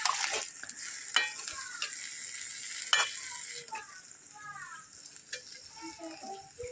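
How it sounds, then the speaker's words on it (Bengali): Vegetables and fish head curry with Malabar spinach cooking in a pan with water, giving a soft sizzling hiss broken by a few stirring scrapes and clinks. The sound is quiet and close. "দেখো জল দিয়ে ফুটে গিয়েছে"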